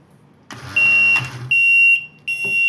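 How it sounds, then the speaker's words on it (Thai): Sharp electronic buzzer tones from a sensor-operated door system sound in three bursts, the second longest, loud and shrill over a low mechanical hum. "แล้วก็จะทำการเล่นเสียงบัสเซอร์เพื่อเป็นการไล่เด็กมาเล่นนะครับ"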